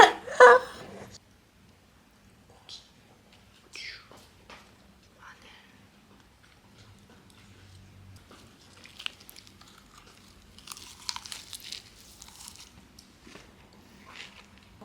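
Someone eats crispy air-fried food with ssamjang, Cheongyang chili and garlic, giving sporadic crunchy bites and chewing that are mostly soft and close, with a louder burst of crunching later and a brief voice at the start.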